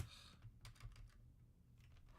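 A computer keyboard that isn't working properly is tapped repeatedly, giving soft, fast clicks and key presses in quick irregular bursts, quiet and close with no talking.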